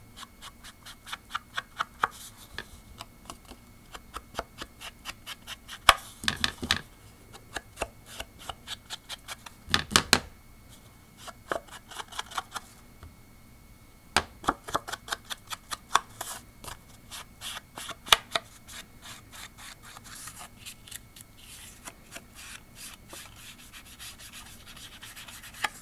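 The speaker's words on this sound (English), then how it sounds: "I'm going to just dip what's here in the lid and ink the edges." Ink dauber loaded with Sapphire ink dabbed and rubbed along the edges of a paper card, a steady stream of soft, quick tapping and brushing strokes, close up and quiet.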